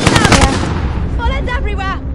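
Rapid video-game gunfire in a Call of Duty gulag fight bursts loudly at the start, then fades under overlapping excited talk.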